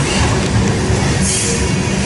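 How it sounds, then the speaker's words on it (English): BNSF westbound freight train with a rear distributed power unit pushing, a loud, steady rumble and roar of rolling cars passing close by, with no talking. "Wow, BNSF unit pushing up on the rear here."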